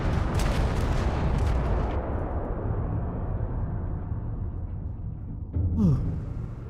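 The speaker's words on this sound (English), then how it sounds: "Some live turrets there, chat." Turrets firing in the Starfield video game during a Star Trek-themed modded playthrough, a dense roar of rapid gunfire bursts that thins out after two seconds, followed by a brief sharp zap near the end.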